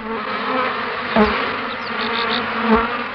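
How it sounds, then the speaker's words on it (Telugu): Insects buzz unseen in a 2D animated kids' cartoon, producing a continuous droning hum with a couple of louder swells and faint higher chirps layered on top. No one speaks. "పురుగులేమో కనిపించడం లేదు, చప్పుడేమో వినిపిస్తుంది."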